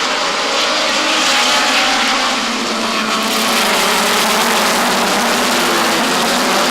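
Circuit race cars with Autocraft and Honda engines roar past in a loud, continuous engine drone that swells slightly midway, heard from trackside without voices.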